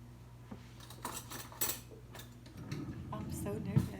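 Metal spoon clinking against dishes while preparing homemade aguachile, a few light separate clinks and scrapes over a low kitchen hum, close by with faint background noise.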